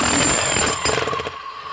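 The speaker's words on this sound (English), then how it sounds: "Metabo hammer. This is a MHEV5BL. Running, no problem." Metabo MHEV5BL brushless demolition hammer running, a rapid rattling buzz of hammering that fades into a quieter mechanical whir as it winds down, close and loud.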